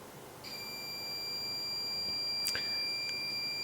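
A multimeter's continuity buzzer beeps while a cable is being tested, a thin steady electronic tone that holds on for several seconds, fairly quiet, with a few faint clicks from the probes and no voices.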